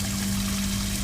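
Water poured in the I Am Cat video game, a steady liquid stream running evenly for the whole second over a constant low hum, with no talk.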